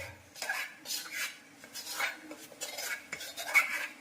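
Idli batter being spooned onto plates that are then covered, heard as repeated close clinks and scrapes of metal plates and utensils at moderate volume, without speech.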